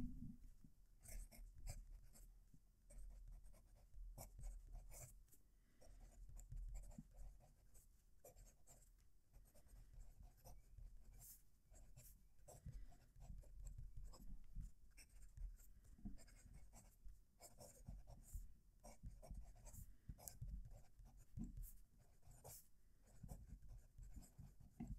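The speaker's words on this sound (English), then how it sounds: "Our final writing sample, we'll move the mic so you can hear it right." A steel-nib fountain pen scratches across paper with close, quiet, rhythmic strokes in short bursts, recorded near the page with no voices.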